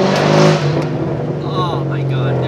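A performance car's engine revving inside a road tunnel, a loud reverberant rev that peaks early and settles into a steady drone, with echoey tonal whines and a brief voice.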